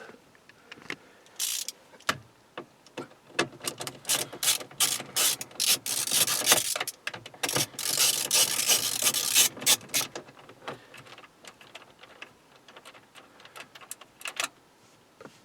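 Torx T20 bolts on a Ford Galaxy or Mondeo radio are undone with a ratcheting driver, giving rapid close clicks in bursts with short pauses and a longer stretch of steady ratcheting in the middle.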